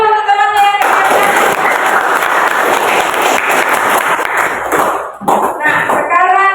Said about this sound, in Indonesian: Aplaus dulu untuk temannya yang ketiga